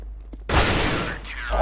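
A burst of M4 rifle fire in a first-person shooter match, a dense loud volley starting sharply after a brief quiet moment and rolling on continuously to the end.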